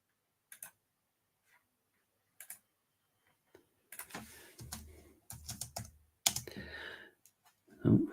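Sparse computer keyboard typing, a few isolated clicks early on, then a denser burst of keystrokes and clacks, close and fairly quiet with no talking.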